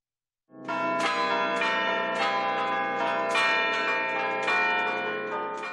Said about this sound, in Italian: ascoltare la voce delle campane